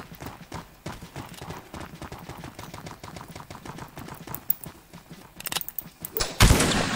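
Horse hooves gallop in a steady clip-clop rhythm in a Roblox battle game set with bayonets and gunfire, loud and close throughout, with sharp shots and bursts of noise rising near the end.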